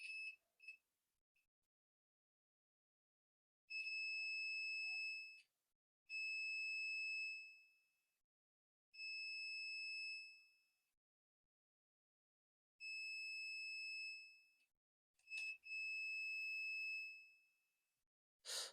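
Several separate bursts of a shrill electronic beep from a continuity tester checking a remote coax switch, each lasting a second or two with pauses between, in an otherwise quiet room.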